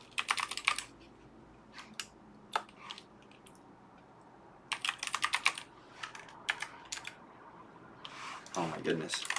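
Bursts of keyboard typing, quick clusters of close clicks separated by pauses, with a voice speaking underneath near the end.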